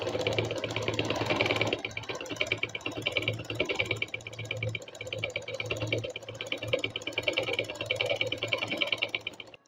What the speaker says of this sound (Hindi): अब पैर पैर की यहाँ पे सिलाई लगाएंगे हम।